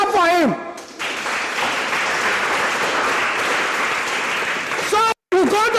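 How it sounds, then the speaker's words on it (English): A steady wash of audience applause at a youth consultation meeting on environmental issues, loud and continuous for several seconds, with a voice briefly at the start and the end. "Please clap for him."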